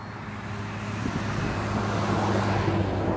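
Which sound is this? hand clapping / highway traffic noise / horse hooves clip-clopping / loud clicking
highway traffic noise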